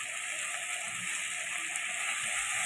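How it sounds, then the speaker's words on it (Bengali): Onion and tomato frying together in a pan, a steady, quiet sizzle with a soft crackle throughout and no other sounds. "পেঁয়াজ আর টমেটো একসাথে ভেজে নিচ্ছি।"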